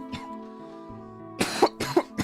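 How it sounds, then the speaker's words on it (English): Someone with a bad, lingering cough lets out a quick series of harsh coughs near the end, over a steady humming background tone. "I've got like a really bad cough for some reason"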